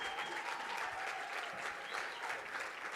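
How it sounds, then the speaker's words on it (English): Audience at a bank's G999 launch event applauding steadily throughout, a dense wash of clapping from a moderately distant crowd with no break. "First of all, applause for Mr. Al-Qasim."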